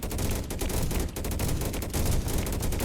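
Dense, loud volleys of rapid gunfire from shotguns in a swarm survival video game, with overlapping blasts in a near-continuous barrage.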